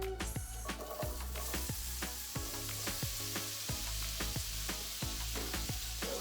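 Onions sizzling in a pot, a steady close crackle broken by regular clanking strokes of stirring, no talking.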